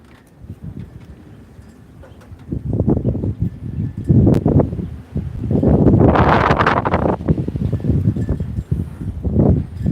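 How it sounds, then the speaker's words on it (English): Gusty wind rushes past the microphone, swelling into a louder, sustained blast midway before easing into uneven gusts. "Sure is windy today."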